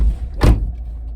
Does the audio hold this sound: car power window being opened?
yes